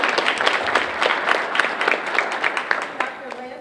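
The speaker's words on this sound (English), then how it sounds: "Round of applause for Callie" A round of applause at a health care class introduction, a room of people clapping with distinct individual claps in a lively burst, briefly joined by a voice near the end.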